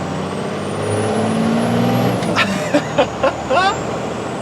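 Classic Ram Cummins diesel truck pulling out onto the road, heard from microphones mounted outside: a steady loud engine rumble and road roar with a rising whine, then a few short thumps as it gets moving.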